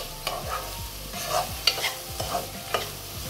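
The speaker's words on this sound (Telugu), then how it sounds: "ఇప్పుడు దీంట్లోకి మనం ఇందాక తీసుకున్న కొబ్బరి పొడిని యాడ్ చేసి దీన్ని పూర్తిగా కలిపేసి దీన్ని ఇంకో 2 మినిట్స్" Cabbage curry with coconut powder stirred and fried in a pan: a soft sizzle beneath several distinct scraping strokes of a spoon against the pan, close and moderately loud, with no voices.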